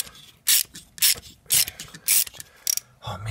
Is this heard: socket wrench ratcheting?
yes